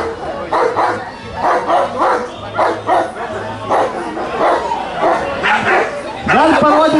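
A dog barks and yips at a public event, with short repeated barks and whimpers heard among people talking.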